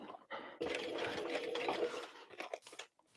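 A sewing machine stitching a bag runs in a sustained burst of dense, close whirring, with shorter starts before and after, alone and fairly quiet.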